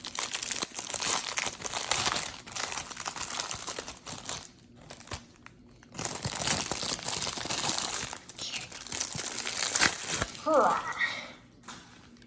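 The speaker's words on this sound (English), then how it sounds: "let me bust this plastic open" Hard plastic packaging of a Universal Transparent Tarot deck is cracked and pried open, giving loud, continuous crinkling and crunching with a few sharp pops and snaps near the end.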